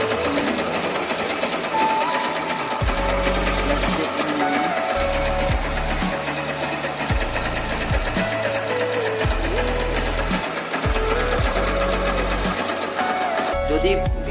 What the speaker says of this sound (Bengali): এখন যে ইঞ্জিন সাউন্ডটা রয়েছে